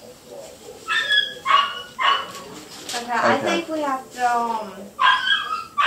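A dog gives short barks and high whimpers in bursts while people talk nearby, the dog's yelps breaking in between and over their voices.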